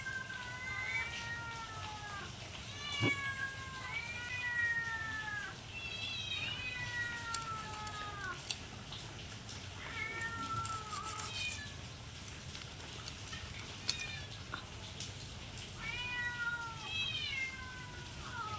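A domestic cat meows repeatedly close by, several drawn-out rising and falling cries spaced a few seconds apart in a quiet kitchen where river fish is being cleaned.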